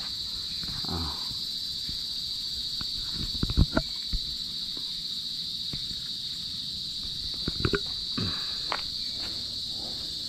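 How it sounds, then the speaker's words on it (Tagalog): Crickets chirp outdoors in a steady, bright continuous drone close by, with occasional soft footsteps and light knocks rising briefly beneath it. "Sarap talagang pakinggan dito mga kuliglig"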